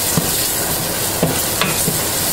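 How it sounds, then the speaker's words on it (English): Garlic and onions sauté in oil with a constant close sizzle and a few light stirring taps over a brief stretch. "And I'll allow this to saute for a good 2 minutes."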